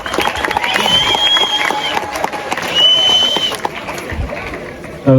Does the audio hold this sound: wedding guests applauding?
yes